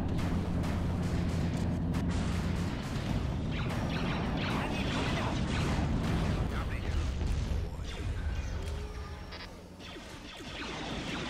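Dense artillery and cannon fire from a large battle in the Star Wars strategy game Empire at War (Awakening of the Rebellion mod), with booms and crashes packed continuously at full volume and talk over the top.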